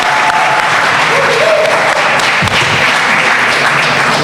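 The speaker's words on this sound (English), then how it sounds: "Please, a round of applause for Cacique Martín Olpid Vaguilla." A live audience at a Taíno survival and identity event breaks into steady, loud applause welcoming a Taíno chief to the stage, the clapping sustained from start to finish and filling the room.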